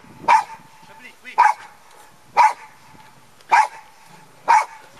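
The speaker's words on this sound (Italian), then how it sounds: "Lei si erge protettrice del nostro luogo e abbaia i cani che vengono." A guard dog barks at approaching dogs: five sharp, single barks spaced about a second apart, loud and near, with quiet background between them.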